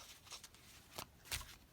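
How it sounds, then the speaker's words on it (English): Tarot cards being shuffled, quiet soft riffles and a few sharper flicks in short bursts, faint and close, with no speech over them. "All right, we are done shuffling."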